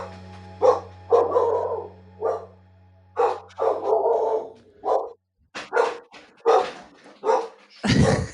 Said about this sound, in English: someone comes to the door and my dog goes crazy